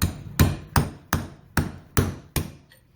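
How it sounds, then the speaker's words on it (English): Seven sharp metallic hammer blows on a punch, driving out a seal on a 2003 Johnson/Evinrude 90 HP V4 outboard gearcase, evenly spaced in a steady rhythm, loud and close with short ringing decays. "All you need is a little punch and a hammer."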